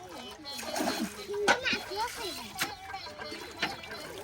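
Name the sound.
water splashing while bailing water out to catch fish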